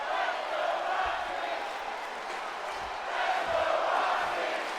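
A large crowd in the WWE 2K25 wrestling video game roars and cheers continuously, a dense wash of voices that swells slightly toward the end.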